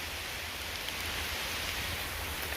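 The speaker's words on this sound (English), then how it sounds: "probably won't be recording so much because it's raining" Rain falling steadily on a forest hiking trail, a dense even hiss of drops on leaves and ground, continuous and close with no voices.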